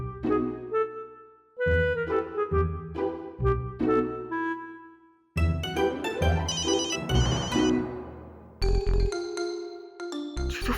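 A melodic phone ringtone repeats in loud, regular chime phrases, then shifts into a busier, brighter tune, played close with no voices over it.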